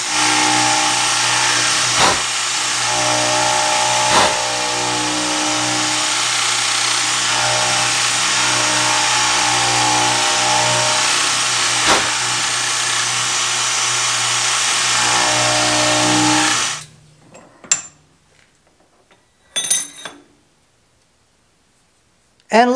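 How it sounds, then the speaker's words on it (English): A power tool whines loudly and continuously as it plunge-cuts a 1/8 inch channel for a square knife tang, with small bumps in the sound, then stops abruptly and leaves quiet clicks and handling noises. "Here we go, plunge cut."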